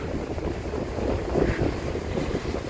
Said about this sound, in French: Mais il fait un peu beaucoup de vent.